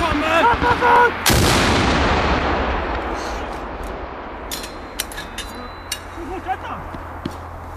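A single heavy artillery shot booms loudly at a Swedish Home Guard military exercise in Boden, its rumbling echo rolling away through the terrain for several seconds while a voice shouts before the blast and faint distant pops follow.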